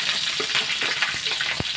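Mustard seeds, cloves and green chilies fry in hot oil for a goat intestine gravy, giving a steady loud sizzle with scattered pops and crackles throughout, including one sharp pop near the end.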